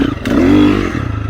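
A motorcycle engine revs up hard in third gear after an ECU reflash, a brief loud rising snarl with some mechanical clatter, close by and without talk.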